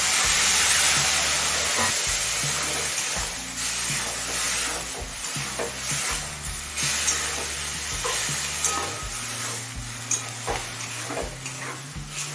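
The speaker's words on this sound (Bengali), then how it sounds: "সমস্ত মশলা খুদ্রির সাথে মিশিয়ে নিয়ে পাঁচটা মিনিট কষিয়ে নিয়েছি" Ivy gourd (kudri) cooks with spices in a pan, a loud hissing sizzle that starts strong and eases, broken by repeated stirring scrapes and knocks of a spatula, no voices.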